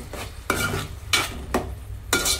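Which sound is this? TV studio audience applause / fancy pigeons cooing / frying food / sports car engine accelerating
frying food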